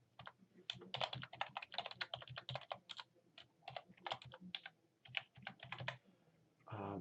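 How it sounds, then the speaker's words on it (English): An address being typed on a computer keyboard: quick irregular bursts of soft, close key clicks at a quiet level, with a brief different noise at the end and no speech. "type in the address, that would be my work location"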